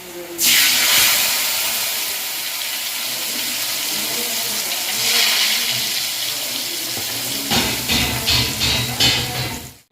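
Jackfruit seeds frying in well-heated oil, a steady loud hiss and crackle that runs unbroken for most of the stretch, then turns choppier and more uneven near the end, with no talk over it.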